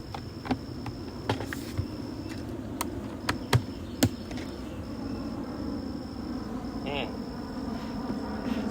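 Honeybees drone around an open hive during a July inspection, a steady low hum with a faint thin whine, broken by a few soft taps and knocks from handling the frames.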